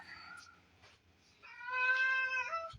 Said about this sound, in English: Now, shut up, cat. Be quiet.